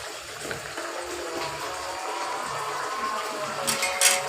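Running tap water splashes steadily while green chillies are washed in a home kitchen, a continuous close rushing with brief louder splashes near the end.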